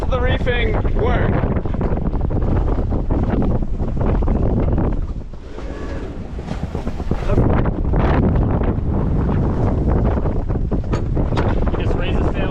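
A junk-rigged sailboat sailing half reefed, with strong wind buffeting the microphone, rushing water and waves along the hull throughout, loud and continuous, with voices talking over it.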